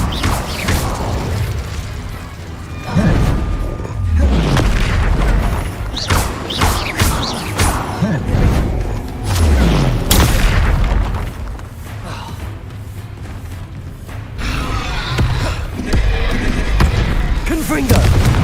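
Spells cast in the Hogwarts Legacy video game, an Incendio fire spell among Confringo blasts, give repeated booming thuds and crackling bursts throughout a busy combat mix, with a voice talking at times.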